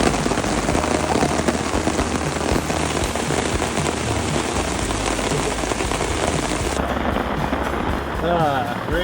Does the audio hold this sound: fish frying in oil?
no